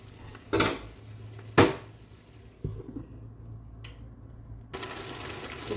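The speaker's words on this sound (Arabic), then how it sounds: "تسمعون هاي الشقشقة مالت اللحم؟" Beef ribs sizzle in an air fryer with a steady hiss, broken by a few sharp metallic clunks as the basket and tongs are handled, then the sizzle settles to a quieter background.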